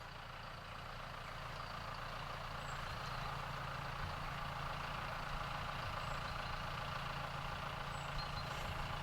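A tractor engine runs steadily on a narrow bridge near Chapel Stile in the Langdales, a low continuous rumble that stays level and fairly close throughout with no talking.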